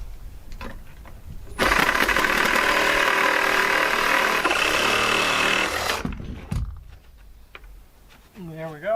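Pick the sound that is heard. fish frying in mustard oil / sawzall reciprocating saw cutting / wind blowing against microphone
sawzall reciprocating saw cutting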